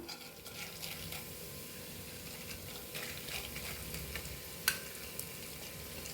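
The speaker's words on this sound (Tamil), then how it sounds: "இந்த முந்திரியையும் பாதாமையும் லைட்டாக ரோஸ்ட் பண்ணி எடுத்துக்குவோம்" Cashews and almonds roast lightly in ghee over a medium flame for Diwali laddu, giving a steady soft sizzle with faint stirring scrapes and one sharp click near the end.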